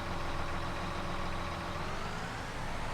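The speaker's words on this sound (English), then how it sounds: "Listen to that engine, that sounds cool." An articulated tractor engine idling in a farming video game, a steady low rumbling drone that holds evenly throughout with no speech.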